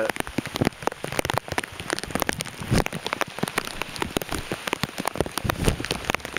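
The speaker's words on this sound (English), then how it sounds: "figure I'd show you this heavier rain" Heavy rain pours down at night during Hurricane Isaac in southern Alabama, a loud, dense and constant patter of drops striking surfaces nearby, with no pauses.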